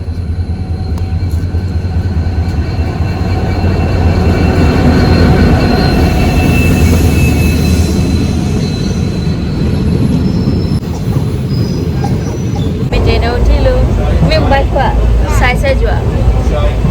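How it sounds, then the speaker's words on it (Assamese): A passenger train pulls into Bordubi railway station with a loud, continuous rumble of wagons and squealing wheels close by, and voices can be heard near the end. "এখন ট্ৰেইন আহিছে"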